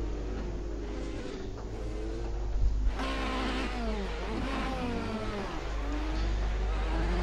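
Engine of a Ferrari race car at Monza in a racing video game, a steady droning whine with rising and falling revs as gears shift, loud and continuous throughout with a brief harsher burst midway.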